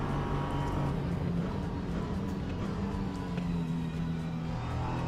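Steady, continuous engine drone of an LMP3 prototype race car in Le Mans Ultimate, a low sustained hum with slowly shifting pitch, close and even in level throughout with no speech.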